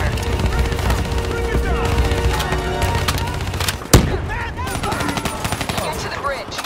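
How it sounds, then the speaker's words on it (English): Rapid automatic gunfire in the Black Ops 3 campaign fires continuously as cover fire, with one sharp loud crack midway and battle noise underneath, mixed with voices speaking. "Give me some cover fire."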